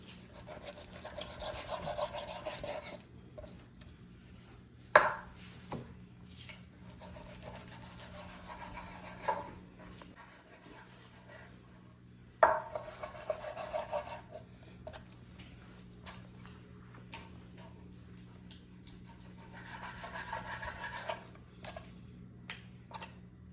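A knife saws through pork spare ribs from Sam's Club in bursts of raspy rubbing strokes with a few sharp knocks against bone or board, close by and fairly quiet, with pauses between cuts.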